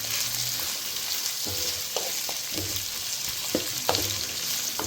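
Goat head and trotters fry in a pan for sambar with a steady close sizzle, while a ladle scrapes and stirs in several irregular knocks and clatters.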